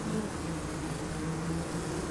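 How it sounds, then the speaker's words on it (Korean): Honeybee workers streaming back into their hive after a fight with a hornet, a dense, continuous buzzing drone of many wings close by, steady throughout. "전투에서 승리한 일벌들이 각자 맡은 일로 돌아가기 위해 벌통 속으로 들어간다."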